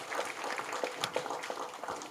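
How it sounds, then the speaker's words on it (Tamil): Scattered, fairly faint applause from an audience at a Tamil film launch pooja ceremony, light irregular clapping across the short stretch with no clear voices on top. "கைதட்டுங்களா"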